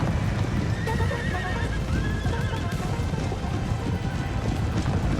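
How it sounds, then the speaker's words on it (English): Massed cavalry horses thunder in a Napoleon Total War battle, a dense rumble of galloping hooves with several whinnies and neighs rising over the continuous roar. "It's a sea of horses."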